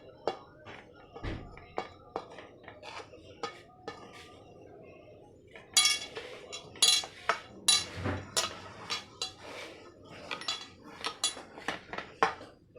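A knife slices through a layer of freshly baked sponge cake, giving soft clinks and taps of the metal blade and utensils against a plate, with a few sharper knocks partway through.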